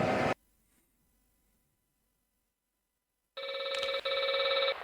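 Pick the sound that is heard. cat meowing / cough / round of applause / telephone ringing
telephone ringing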